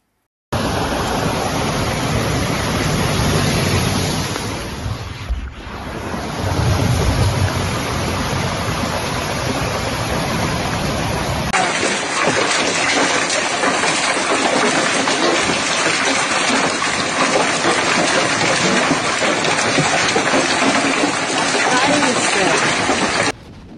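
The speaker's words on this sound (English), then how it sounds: "A powerful Atlantic storm swept across much of Europe, bringing hurricane-force winds, torrential rain, and chaos in several countries" A powerful Atlantic storm sweeps across Europe with hurricane-force winds and torrential rain, heard as a loud, continuous roaring wash of noise that changes character midway and never lets up.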